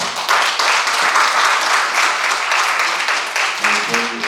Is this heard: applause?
yes